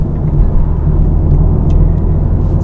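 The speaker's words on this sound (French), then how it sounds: "un petit bruit de roulement du fait des pneus" Steady low rumble of tires rolling on the road inside a moving BMW M140i, a continuous dull roar with no talking.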